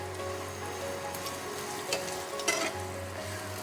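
Cumin and turmeric fry in a pan, giving a steady, even sizzle close up with a couple of soft scrapes near the end and no voices.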